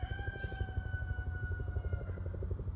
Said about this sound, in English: you can probably hear that helicopter